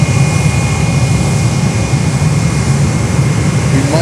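A Delta Airlines jet roars past at Fort Lauderdale airport, a loud, steady, broadband engine rumble that stays close throughout.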